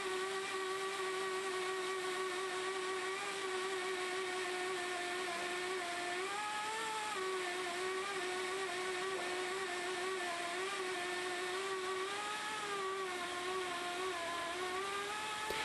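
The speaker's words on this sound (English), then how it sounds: "This will be noticed by a reduction in speed and change in pitch of the air motor" An air motor drives a hole saw through pipe in a long, steady whine whose pitch wavers and dips as the cutting load changes. The sound is continuous and moderately loud, with no talking.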